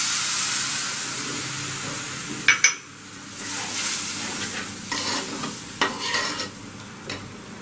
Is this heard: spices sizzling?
yes